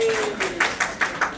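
Audience clapping at an Indonesian community gathering: a handful of distinct, evenly spaced claps at moderate distance, sparse rather than a full ovation, following a brief trailing voice.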